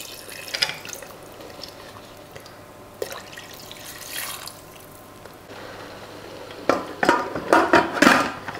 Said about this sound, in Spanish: Por último, le añado el agua